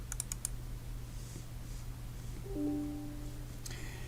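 A computer mouse double-clicks a desktop icon: a quick pair of small, crisp clicks near the start, then a quiet stretch with a low background hum, a brief tone and another faint cluster of clicks at the end, no speech.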